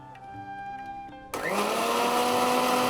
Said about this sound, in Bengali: খুব ভালো করে একটু ব্লাইন্ড করতে হবে।